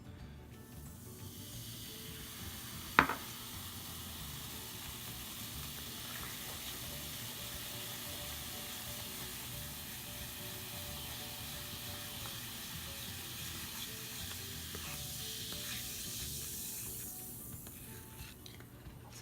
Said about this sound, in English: this is typical egg substitute of adding vinegar and baking soda together